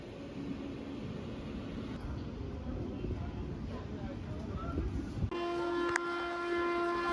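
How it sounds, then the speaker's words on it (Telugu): Ambience on a platform at Nagpur railway station: a low rumble of trains and crowd murmur, then a sustained tonal train horn sounds partway through. "మనం అయితే ప్రెసెంట్ నాగ్పూర్ రైల్వే స్టేషన్లో అయితే ఉన్నాం"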